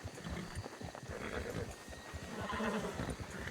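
A horse neighs and whinnies amid scattered hoof clops, faint and mid-distance over a noisy background.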